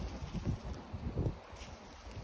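Wind blows outdoors in a forest during mushroom picking, buffeting the microphone with a steady low rumbling roar and soft gusts that swell and fade throughout, with no voices.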